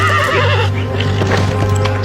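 A horse gives a loud, close whinny with a wavering pitch, followed by hoof clops and shuffling, with no talking.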